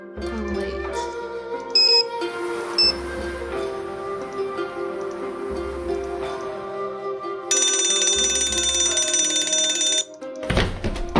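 An alarm rings in the video game Shadow at the Water's Edge: repeated bursts of a shrill electronic bell tone, then a long continuous ring that stops abruptly, ending with a couple of thunks.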